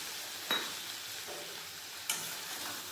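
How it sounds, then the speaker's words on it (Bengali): Poppy seed paste ground very fine frying in a pan as it is stirred in for a vegetarian bottle gourd, eggplant and potato posto, a steady soft sizzle with two brief sharp scrapes of the utensil against the pan, alone. "পোস্ত ভালো করে মিশিয়ে নেব।"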